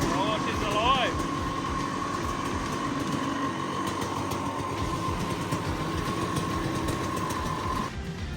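Rotax DD2 go-kart engine idling and running steadily close by with a constant whining drone and brief revving near the start, a voice speaking over it, cutting off near the end.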